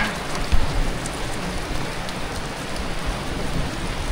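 Heavy rain pours outdoors just outside a house onto a grassy yard during a thunderstorm. It is a loud, steady, dense hiss close to the microphone that continues throughout without a break.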